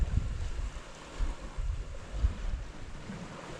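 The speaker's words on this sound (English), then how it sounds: "Wind's getting up a bit now." Night wind rising by the sea during a fishing session, gusty buffeting and low rumbling surf, with wind noise on the microphone and no talk.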